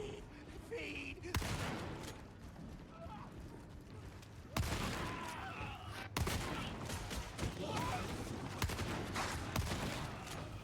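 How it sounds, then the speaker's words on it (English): Shotgun blasts in a video game, with sharp loud reports at about 1.3, 4.5 and 6.1 seconds over continuous gunfire and game noise. "Yeah, the shotgun feels great."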